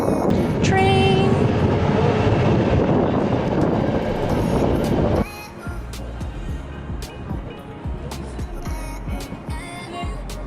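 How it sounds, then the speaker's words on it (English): Train passing in Rotterdam, Netherlands, a loud close rumbling roar with a brief squeal that cuts off abruptly midway, leaving quieter street ambience and light clatter. "Train."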